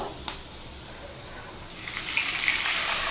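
Water is poured into a hot pan of roasted semolina for upma, a rushing hiss and gush swelling up after a quiet start and a small knock, close and fairly loud.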